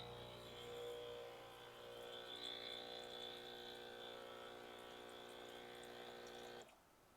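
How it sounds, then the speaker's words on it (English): Breville Barista Express espresso machine running its hot water cycle during descaling, a steady pump hum with hissing water flow, close and constant, then cutting off near the end. "so we're going to go ahead and do that hot water again."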